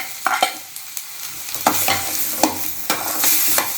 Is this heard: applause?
no